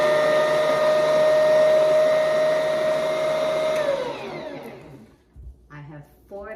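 An electric stand mixer whirs steadily while blending sunflower oil into bun dough, a loud close motor drone that winds down and stops near the four-second mark, after which a person talks.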